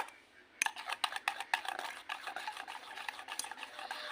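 A spoon stirs raw mango pancake batter in a bowl, made the village way: quick, close, rhythmic scraping and tapping strokes, moderately soft, with no talk.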